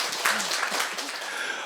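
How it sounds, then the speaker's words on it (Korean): An audience at a book concert for a Korea–Japan relations lecture applauds, producing a loud, even burst of clapping through the short stretch with faint tonal murmurs beneath it. "이런 박수 한번 주십시오."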